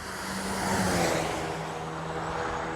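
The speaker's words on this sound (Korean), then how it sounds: "저 차가 저렇게 지나가서 160km에서 제로까지 제동 테스트를 하고 있습니다" A car passes on a circuit during a 160 km/h-to-zero braking test, its steady engine and tire roar swelling briefly at a moderate distance and then easing off.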